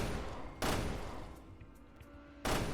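Gunfire hits an enemy in the Resident Evil Revelations 2 video game, two loud sharp shots about two seconds apart with quieter game ambience between.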